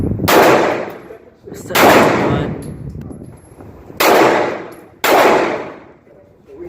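Four loud handgun shots ring out at an outdoor CCW training range. They are spaced about one to two seconds apart, each a sharp crack with a ringing decay, and faint talk is heard between them.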